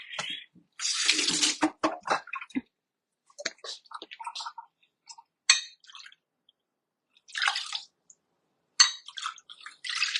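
Water splashes and pours in short bursts into a container, with quiet gaps between pours and little talk.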